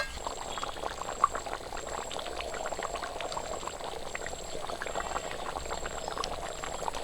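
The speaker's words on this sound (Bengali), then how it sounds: "ঝোলটা ফুটে গেছে ভেজে রাখা আলুগুলো দিয়ে দিচ্ছি" Mutton curry gravy bubbles steadily in a pot with fried potatoes added, a dense, even simmering hiss and burble that carries on throughout at moderate volume with no talking.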